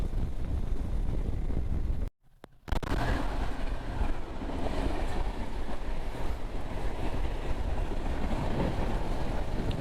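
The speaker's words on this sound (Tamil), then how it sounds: "கோவாவில் ட்ரெயின் போகுது" Steady rumbling roar of a train passing close by through forest in Goa, with wind buffeting the microphone and a brief dropout early on.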